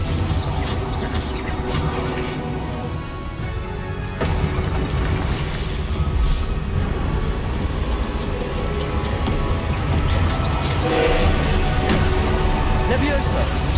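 Confringo spell blasts in Hogwarts Legacy combat, repeated booming explosions and crashes rolling over a dense, continuous rumble for the full stretch, loud and close.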